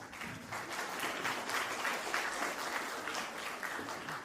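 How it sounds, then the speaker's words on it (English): A school crowd applauds a boy competitor at a storytelling competition grand finale, with even, continuous clapping from many hands, slightly distant and fairly soft, no voices over it. "Let us welcome this brave boy with a big round of applause."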